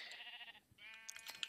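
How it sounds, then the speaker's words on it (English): Minecraft sheep bleat when struck, two quick wavering baa calls separated by a brief gap, faint and close with no talk. "accidentally hitting sheep"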